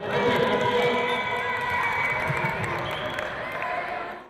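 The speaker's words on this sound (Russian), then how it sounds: "Трибуна взрывается овациями." At a school basketball league final in Nazran, the stands erupt into a loud, steady roar of cheering, shouting and clapping for about four seconds before it trails off.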